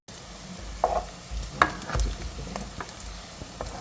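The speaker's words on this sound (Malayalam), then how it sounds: "ഈ നെയ്യിലേക്ക് നെയ്യ് നന്നായിട്ട് മെൽറ്റായിട്ട് അതിലേക്ക് ഒരു സവാള ഇടാം" Sliced onion goes into melted ghee for a crab ghee roast. A soft, close sizzle carries scraping stirs and a couple of sharp utensil clinks against the pan, and no voices are heard.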